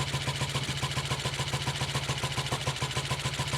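A Triumph Tiger Cub motorcycle with a Zenith carb on 6 volts idles with an uneven eight-stroking beat, close and steady, a rhythmic low thump repeating for several seconds with no talking.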